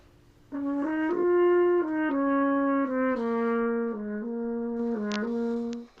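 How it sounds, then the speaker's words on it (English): A French horn with a mute in the bell plays a short legato phrase, its tone thinner and more nasal than an open horn, with notes held evenly before a gentle release. "All I'm going to do is put the mute in the bell."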